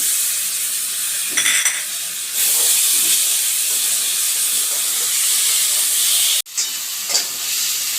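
Freshly ground spice paste sizzles steadily in a hot pan of jackfruit and prawn curry while it is stirred, a continuous hissing fry with a few soft scraping stirs and a brief sharp break near the end.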